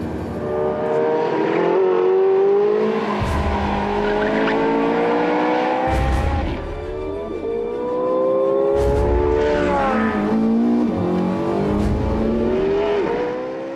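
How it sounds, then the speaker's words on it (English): A Porsche 918 Spyder race car roars around a racing track, its loud engine note rising and falling through repeated revving passes, with brief tire squeals at gear changes and corners, close and continuous. "The car roars around the racing track as if it had been made for it."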